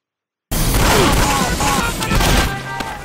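Video game gunfire in a Team Fortress 2 bot match rattles as a loud, continuous volley of shots and booms. The sound starts abruptly after a brief silence, while a voice speaks over the shooting.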